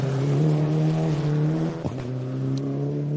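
A rally car passes close by on a Queensland rally stage, its engine revving loudly in a sustained high-pitched drone that briefly drops with a gear change and then picks up again as it moves away.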